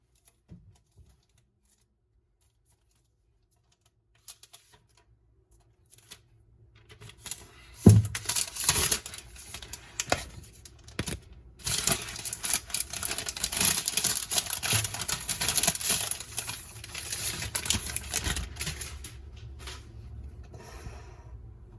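Packaging around a 2020 13-inch MacBook Air is cut open: after a near-silent stretch with a few faint taps, close scratchy slicing and rustling of plastic and cardboard go on for several seconds, then fade.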